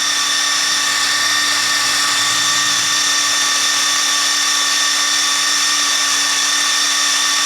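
A Ryobi Kyocera BID 10XR impact driver spins freely in its middle speed mode, rated around 2100 RPM, giving a steady, loud, unbroken motor whine with a strong tonal hum that holds even from start to finish.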